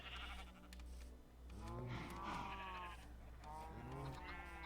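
Minecraft sheep bleat several times in a video game farm pen, the wavering, nasal cries coming close and clear one after another and overlapping over a steady low background hum.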